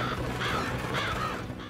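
Crows caw repeatedly in a video game farm scene near a scarecrow, harsh calls rising in bursts over steady background ambience, with no talking.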